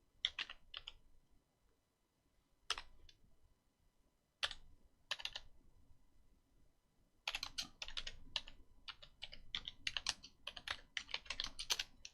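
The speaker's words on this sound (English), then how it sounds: "I'll type that in as well." Bursts of typing on a computer keyboard, sparse at first and then fast and continuous, with clicking keystrokes close and clear and no talking.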